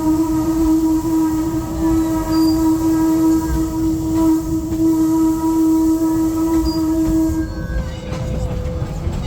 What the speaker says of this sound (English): This is a single chime whistle.